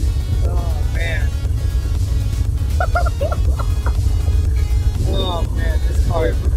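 A 1994 Corvette C4 accelerating, heard from inside with a steady low engine drone running throughout, while someone talks excitedly over it.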